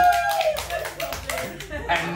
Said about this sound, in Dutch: Maar even nog applaus doen voor je post samen met Sega Thai in Mexico.